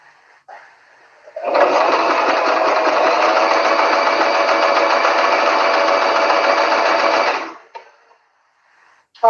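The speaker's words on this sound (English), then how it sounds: "Then sew close to the edge as possible." A sewing machine runs in one steady, close burst of about six seconds, stitching along the edge of two aligned pieces of cloth, with brief quiet before and after.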